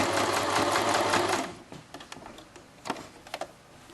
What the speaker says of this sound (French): on coud en angle droit